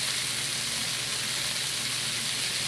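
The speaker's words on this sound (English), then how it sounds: "underneath all these vegetables, I still have the beef frying and getting brown." Beef and vegetables, including carrots, peppers, green onions and broccoli, sizzle in a hot pan for beef ramen. A steady, close, hissing fry continues without a break, with no voices.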